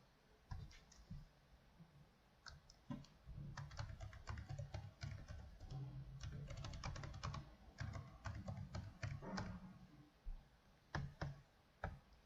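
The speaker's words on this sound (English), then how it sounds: "let's type API products" Steady typing on a computer keyboard, quick clusters of close, crisp key clicks with short pauses between bursts, no voices.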